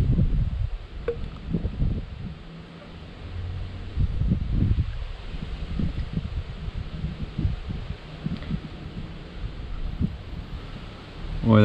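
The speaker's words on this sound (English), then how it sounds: "I'm standing in the wrong position here with the wind." Gusty wind buffets the microphone in uneven low rumbling bursts, rising and falling outdoors, with no clear speech.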